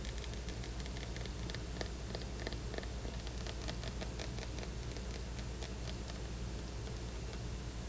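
Fingers tap and scratch on a giant chocolate bar in a soft-spoken ASMR session, a dense, even patter of light clicks like rain on a roof, close and steady, without speech.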